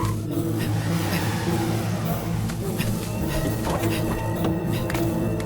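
A car engine revs hard in a Hindi film action scene, a loud, unbroken roar that stays at full intensity throughout.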